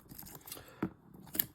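Scissors snip at a Pokémon card collection box, a few short, crisp cuts close by with quiet gaps between them.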